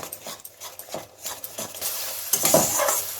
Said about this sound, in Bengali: গ্যাসটাকে মিডিয়াম ফ্লেমে দিয়ে আমি মশলাটা ভালো করে একটু কষিয়ে নেব, 2-3 মিনিট ধরে নাড়িয়ে চাড়িয়ে।